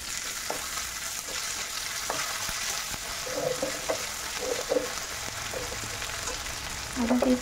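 Ginger paste fries in hot oil in a pan, following garlic paste, while a chicken liver gravy is cooked; a steady sizzle runs throughout with occasional scraping and stirring clinks.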